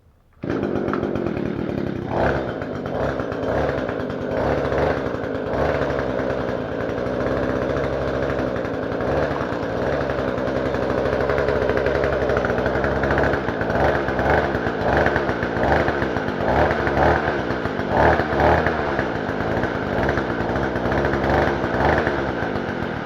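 An Echo GT-225 string trimmer engine runs after a cylinder block and piston rebuild, a loud, continuous two-stroke buzz with uneven revving and sputtering through the middle and later stretches.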